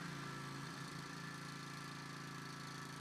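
A commercial walk-behind lawn mower engine runs steadily close by, a constant mid-pitched drone with a slight vibrating rumble and no pauses.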